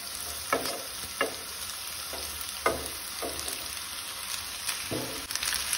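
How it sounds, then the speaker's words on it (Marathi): A spoon stirs cooked rice into veg fried rice in a hot pan, soy sauce and spring onion already in, giving repeated scraping strokes over a steady sizzle with no talking. "रायस घालून असो सारको बरो मिक्स करून घेवपाक जाय।"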